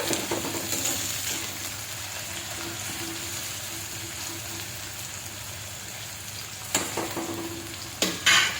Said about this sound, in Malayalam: ഉള്ളി ചേർത്ത് ഫ്രൈ ചെയ്യാം